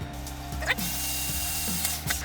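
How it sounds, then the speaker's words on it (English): A power drill runs quickly through holes in a wooden board, with a steady motor whine, brief grinding surges and a rising pitch as the bit breaks through. "now I'm just going to drill quickly through them"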